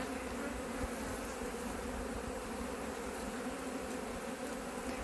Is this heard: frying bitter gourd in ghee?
no